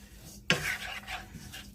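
A spoon scrapes and stirs inside a pot with a sharp initial clink, followed by a continuous scraping swirl, close and moderately loud.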